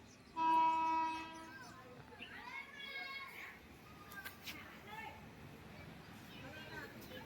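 A train horn blares loudly for about a second, followed by rail noise and people talking and children's voices in the background.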